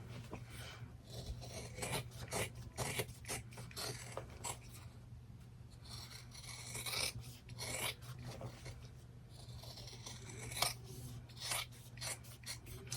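Scissors snip repeatedly around embroidered in-the-hoop fabric for a mug rug, making close, quiet rasping cuts in an uneven rhythm over a low steady hum, with no talking.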